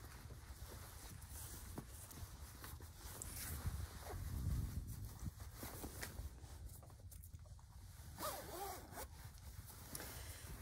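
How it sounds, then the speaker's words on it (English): A purple invisible zipper is being zipped up on a sewing project, giving a long run of soft ragged zipping at close range, loudest midway, with no talk. "now I'm going to zip this up"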